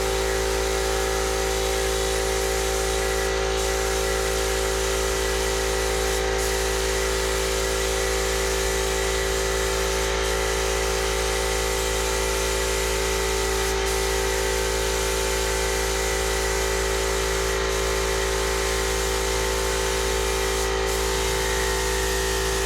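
A spray gun lays clear coat onto a Speedway Motors T Bucket hot rod, giving a constant close airy hiss over a steady compressor drone, broken only by a few brief pauses, with no talking.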